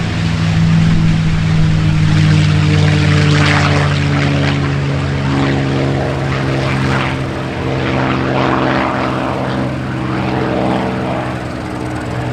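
A T-28 Trojan warbird's propeller engine runs loud and close at an airshow, a steady deep droning roar that holds for the whole stretch with slight swells.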